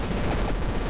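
Machine gun fire in the video game Super Crate Box, a dense, continuous rattle of rapid shots that stays loud and unbroken for a short moment, with no talk.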